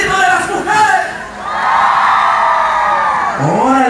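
Women in the audience of a live impersonator comedy show in Puebla scream and whoop together in a loud, sustained crowd yell that dips briefly, then surges again.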